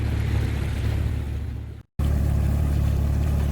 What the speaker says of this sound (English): So 6-hour journey, 20 miles. All on engine.